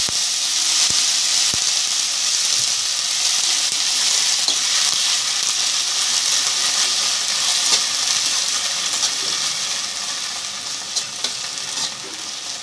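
Coriander leaves fry in hot oil while making aanapakaya (bottle gourd) pachadi, giving a loud, continuous sizzle and hiss with faint crackles throughout.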